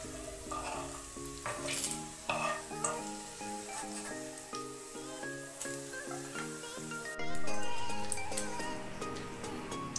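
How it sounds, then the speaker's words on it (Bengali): Stuffed paneer frying in a pan gives a steady sizzle with stirring clatter close up, while loud music plays over it throughout. "পনিরের ওই সাইডটা ভেজে নিচ্ছি"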